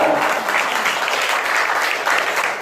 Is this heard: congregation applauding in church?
yes